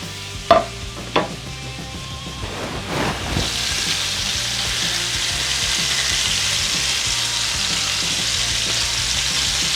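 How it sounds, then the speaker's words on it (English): Steady, loud sizzling of bacon-wrapped filet mignon frying in a pan, with a couple of sharp clinks at the start before the hiss settles in. "Listen to that sizzle."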